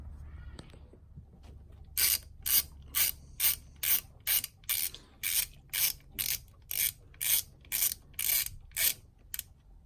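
A T30 Torx bolt on the turbo inlet of an Audi S3 is being undone with a ratchet, sounding as a long, regular run of about sixteen close clicking bursts after a quiet start.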